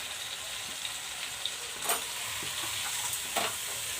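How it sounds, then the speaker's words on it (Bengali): Marinated chicken for chicken kosha fries in a hot pan, giving a steady, even sizzle with a couple of brief stirring scrapes, close and moderately loud with no voices. "এবার আমি চিকেনটা যে হাতে কষিয়ে রেখেছিলাম এটা আমি দিয়ে দিচ্ছি।"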